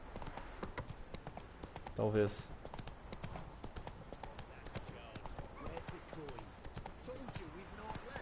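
Hooves of Roach, a horse in The Witcher 3 video game, clop in a steady galloping rhythm under game ambience, with a brief louder burst and a speaking voice partway through.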